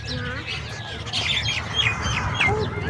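Small birds chirp and squawk at a feeding spot where grain is scattered, with several short bright calls repeating over a steady low background hum.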